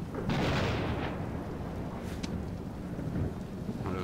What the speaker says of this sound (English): Thunderstorm coming.